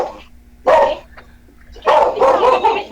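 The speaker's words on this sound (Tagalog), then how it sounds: "maingay yung aso" A dog barks in loud, close bursts, a short bark followed by a longer volley of repeated barks after a quiet gap.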